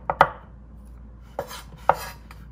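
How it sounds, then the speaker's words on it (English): A knife chops through an onion on a cutting board in a few sharp, separate knocks, close and clear, with quiet gaps between strokes. "now chopping across using the knife"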